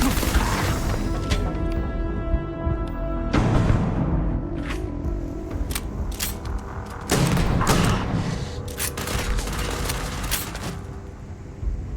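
Shotgun fire in the space game Starfield: a dense run of loud booming blasts and crashes, with heavy bursts around the middle and later, filling most of the stretch.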